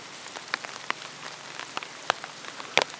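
Rain falls outdoors in the Duck Mountains of Manitoba, with scattered sharp drops tapping close by over a soft, steady patter.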